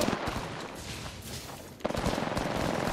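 Rapid bursts of gunfire in an online shooter, with quick repeated shots and automatic fire crackling at moderate loudness, a sharper cluster of shots near the end.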